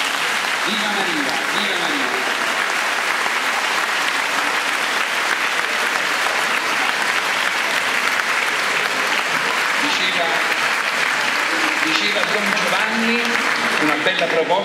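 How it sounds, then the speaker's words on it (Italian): A large crowd applauds at a Marian religious festival in Caserta, Italy, dense sustained clapping filling the whole stretch evenly and loudly, with faint voices and cheers beneath it. "Facciamo un applauso a Maria."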